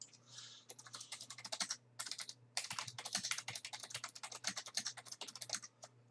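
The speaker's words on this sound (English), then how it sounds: "Mike, how come I'm typing in here?" Quick, uneven bursts of typing on a computer keyboard, close and fairly quiet, the clicks coming in rapid clusters with short pauses and no talking.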